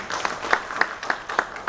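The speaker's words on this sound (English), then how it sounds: "I'd like to ask you to applaud him a second time for his brevity" An audience at a 2015 eGovernment summit claps in a brief burst of applause, with several sharp, fairly faint claps standing out from a softer spread of hands.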